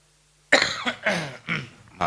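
A man coughs several times in quick bursts during an Indonesian religious lecture, the coughs close and loud after a silent start, with a brief pause between groups.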